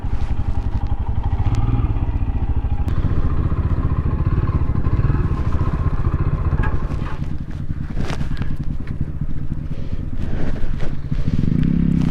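Motorcycles belonging to a bikers' gang at the Bisle viewpoint near Sakleshpur, a hill station in Karnataka, make a continuous loud, close engine rumble with uneven throbbing and occasional revs.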